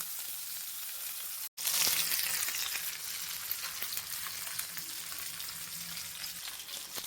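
A whole net-caught fish fries in a pan, giving a steady, close sizzle and crackle that runs almost unbroken, with one brief dropout near the start.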